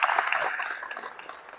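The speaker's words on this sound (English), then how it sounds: "You can clap it up for them." A short burst of audience applause for a basketball team at a coach's practice gathering, a modest spread of claps that starts fuller and thins out over under two seconds.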